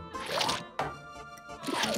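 Cartoon swamp muck pours into a beaker in two gloopy squishing bursts with a short gap between, close and wet-sounding.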